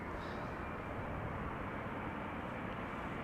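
Air Canada Flight 808, a Boeing 787-9 Dreamliner from Toronto, arriving at Schiphol Airport: a steady, even broadband jet roar that holds at constant loudness throughout, with no voices.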